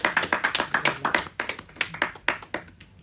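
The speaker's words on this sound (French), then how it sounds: "Est-ce que ça ne mérite pas quelques applaudissements" Audience applause at a Paris press conference for the Congolese group Makoma: a loose, uneven run of individual hand claps, fairly close and moderately loud, with no talk over it.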